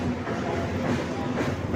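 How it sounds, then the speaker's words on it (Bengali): A train runs along a nearby rail line with a continuous rolling rumble and soft clickety-clack, fairly close and steady throughout, with no talk over it. "আর ওই দিকে আরেকটা লাইনে দেখুন ট্রেন যাচ্ছে"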